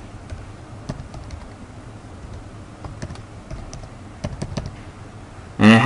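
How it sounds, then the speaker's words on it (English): Keys clatter on a computer keyboard in scattered, quick taps and short runs, close and fairly quiet against a faint background hum. "So I'm going to type in system height."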